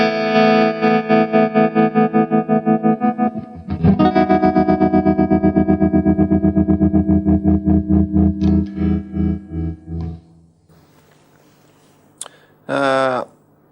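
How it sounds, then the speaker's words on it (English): Electric guitar played through a multi-effects unit with a pulsing tremolo whose speed is swept by an expression pedal, sustained chords throbbing in steady rhythmic bursts for about ten seconds before fading, followed by a short twangy note. "It's a tremolo sound, and I'm using the expression pedal in the unit to control the rate of the actual tremolo."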